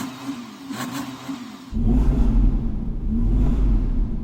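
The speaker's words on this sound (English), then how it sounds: "Can you rev up your engine, Daniel?" Audi R8 supercar revving in the snow: a lighter engine drone gives way to a sudden louder, deeper surge that holds a rumbling, wavering rev to the end, close by with no talk.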